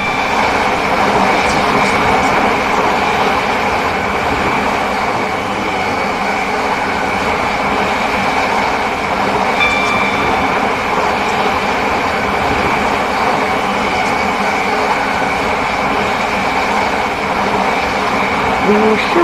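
A Class 730 train runs in Roblox Stepford County Railway, with a steady loud rumbling drone and whine of the motors continuing throughout, close and unbroken, with no talk.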